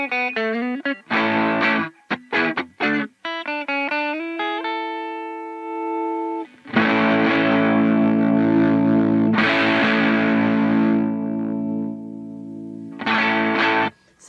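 Electric guitar played through a Ground Control Tsukuyomi midrange booster pedal with the mids engaged: clipped chord stabs, then long sustained ringing chords with a bright, mid-heavy tone, played alone without talk.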